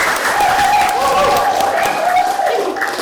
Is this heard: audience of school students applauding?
yes